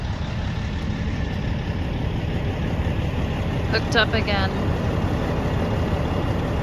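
A stuck truck sits idling at a muddy concrete pad site, its engine a steady low rumble running throughout while a person talks briefly over it.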